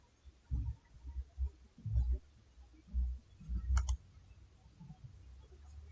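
A few soft computer mouse clicks in a Windows 11 settings menu, spaced irregularly over faint low thumps and quiet room noise, with no talking.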